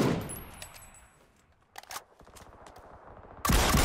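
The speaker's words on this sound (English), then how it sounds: "that was some actual gunshots quite near me there" Gunfire close by in the battle-royale game PUBG on console: a few sharp, clustered shots partway through, then a loud, dense burst at the end over quiet ambient game sound.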